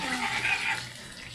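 A small splash of water poured into a pot of Egyptian koshari sauce while cooking, a brief bubbling gush that fades after under a second, with no talking.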